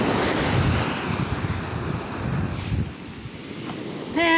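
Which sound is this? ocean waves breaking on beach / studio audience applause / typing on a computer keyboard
ocean waves breaking on beach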